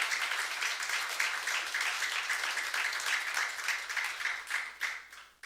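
A church congregation applauding together at a youth worship service, a dense steady wash of many hands clapping that carries on throughout and begins to thin out toward the end.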